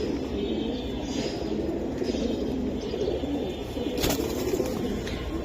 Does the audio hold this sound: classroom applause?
no